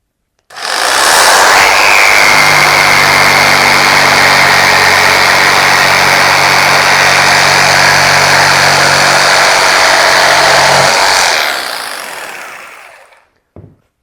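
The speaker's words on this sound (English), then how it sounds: "we'll let the saw come up to full speed before we push the saw into the wood" An electric jigsaw runs up to full speed on timber, giving a loud, steady, close motor whine that holds for about ten seconds before winding down and stopping.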